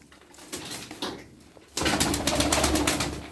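Pigeons in a loft cooing and stirring, quieter shuffling at first, then a louder dense stretch of bird sound and wing movement close by, with no speech.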